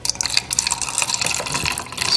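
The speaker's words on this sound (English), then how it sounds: "I place it in this cup and I add Kangen water to it" Kangen water pours steadily from a container into a cup holding a green tea bag, a close, continuous splashing fill lasting a couple of seconds with no talk.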